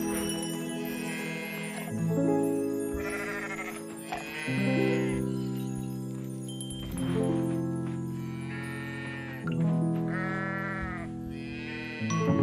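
Sheep in the farming game Coral Island bleat several times in a row, with repeated wavering, tonal calls over steady in-game background music, fairly loud and close.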